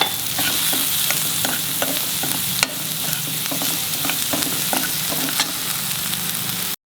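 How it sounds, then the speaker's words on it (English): Prawn masala with turmeric and garam masala sizzles steadily in a hot pan, broken by a run of sharp stirring clacks and scrapes of the spoon against the metal, close and continuous throughout. "Keep stirring."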